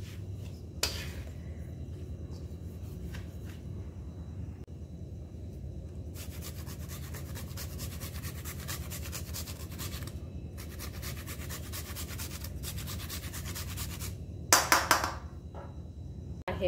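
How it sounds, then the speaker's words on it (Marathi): Whole nutmeg rubbed against a grater over a ladoo mixture, giving steady soft scraping strokes throughout, fairly close and continuous, with a brief louder clatter near the end. "आता यामध्ये थोडंसं मी जायफळ किसून टाकणार आहे"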